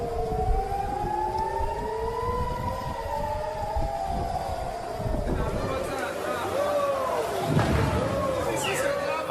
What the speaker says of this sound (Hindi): हमास के हमलों के पेश नजर 1 मिनट के दौरान 36 शहरों में खतरे के सायरन बजाए गए।